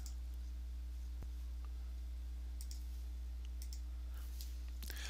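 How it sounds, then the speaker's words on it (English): A computer mouse double-clicks during work in optical simulation software, giving a few faint, sharp clicks spaced through the moment over a steady low electrical hum. "First let me double click on the seed beam."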